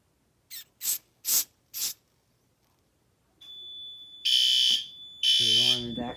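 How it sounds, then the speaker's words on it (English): Four short hissing bursts, then after a pause a fire alarm panel set off by a smoke detector test sounds: a steady high tone joined by loud pulsing horn blasts in two long bursts, close and harsh, with no talk. "The alarm is active."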